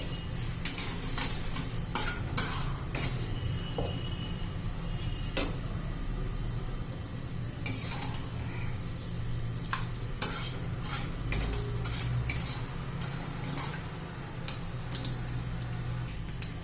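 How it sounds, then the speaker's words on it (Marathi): Moong dal frying and being stirred in a pan for ginger chutney, with a steady low sizzle and scattered clicks and scrapes of a spoon against the pan, close and fairly quiet throughout. "मूग डाळ तळू द्यायची आहे चांगली, कलर बदलला पाहिजे."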